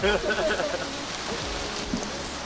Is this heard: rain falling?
yes